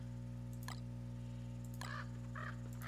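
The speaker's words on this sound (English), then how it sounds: "Get out of here, crows." Crows cawing in the video game Don't Starve, a few short harsh caws at moderate distance over a steady low droning game background, with no talk.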